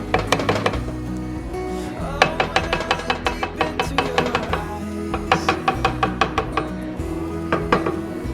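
Canned diced tomatoes are emptied into a soup pot for a creamy tomato basil soup, with a steady run of close metallic clinks and knocks as the can is scraped out.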